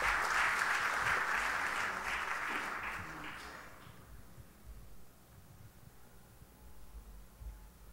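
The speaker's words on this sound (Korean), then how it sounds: "하객 여러분의 큰 박수 부탁드리겠습니다." Wedding guests at a church service applaud loudly for a few seconds, then the clapping fades into quiet room tone.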